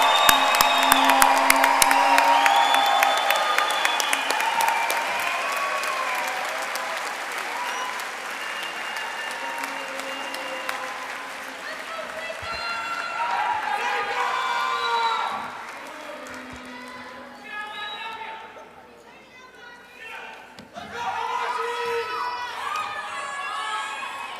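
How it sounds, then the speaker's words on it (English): Large audience at the UNLV School of Dental Medicine 2022 commencement breaks into sustained applause with cheering and whoops, loud and dense at first, then easing into scattered clapping and shouts that swell again near the end. "Please join me in giving a big round of applause for the UNLV School of Dental Medicine DMD DDS class of 2022."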